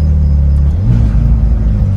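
A Ferrari exhaust with Capristo valves open in race mode gives a deep, loud, steady grumble close by, with the low rumble thickening partway through and no talk over it.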